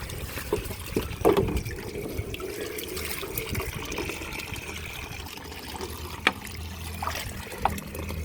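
Water splashing and trickling over a shoe being washed outdoors, a steady wet running sound with a few sharper splashes, moderately near and with no talking.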